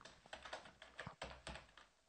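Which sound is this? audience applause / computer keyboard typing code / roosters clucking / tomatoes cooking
computer keyboard typing code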